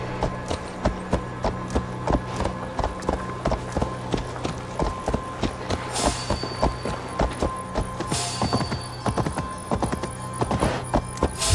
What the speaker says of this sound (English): Just for riding a horse in town?